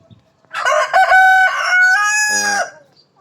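A loud, close Tiger chicken rooster crow rings out in one long drawn-out call, with a brief cluck near the end.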